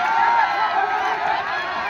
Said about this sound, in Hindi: एक बार जोरदार ताली से नेताजी का स्वागत किया जाए